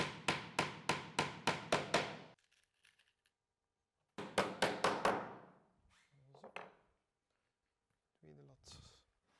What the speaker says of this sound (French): nous la fixons en enfonçant quelques clous sans tête